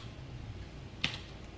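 Computer keyboard typing while entering code: a faint quiet room, then one short burst of key clicks near the end.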